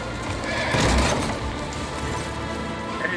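Horse neighing in the video game Warhammer 40k Rogue Trader, a loud whinny swelling near the middle over steady clip-clop hooves and mechanical background, with no talk.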